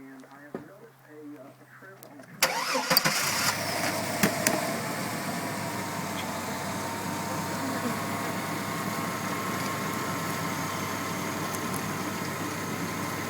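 After a quiet start, a truck engine turns over and settles into a steady, broadband idle that continues to the end, during a radiator flush.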